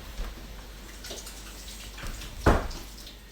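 Hands washed under running tap water: a brief, soft trickle and splash, ending in a louder splash near the end.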